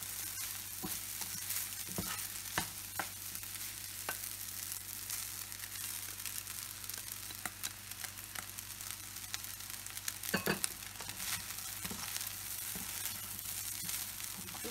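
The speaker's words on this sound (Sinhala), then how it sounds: "හයි හීට් දාලා තියෙන හින්දා ඉක්මනින් ඉක්මනින් කලවම් කරගන්න." Rice for egg fried rice is stir-fried quickly on high heat, making a soft, continuous sizzle broken by frequent scraping and tapping clicks from brisk stirring.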